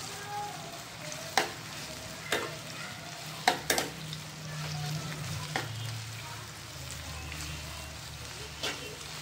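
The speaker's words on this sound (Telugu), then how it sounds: "ఇప్పుడు ఇవి బ్రౌన్ కలర్ వచ్చే వరకు ఫ్రై చేసుకోవాలండి" Chopped onions for country chicken biryani fry quietly in a pan while a spoon stirs them, with several sharp scraping clacks of the utensil over a soft, steady sizzle. A faint voice is heard briefly in the background.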